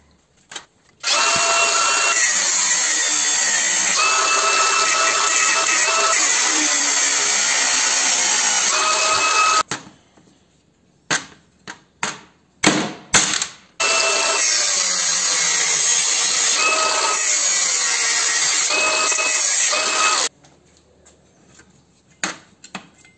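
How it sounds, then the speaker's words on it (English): Angle grinder cutting out stainless steel bolts seized in an alloy part in a workshop, a loud steady whine in two long passes separated by brief bursts and pauses, no talking. "So I'm just going to grind them out."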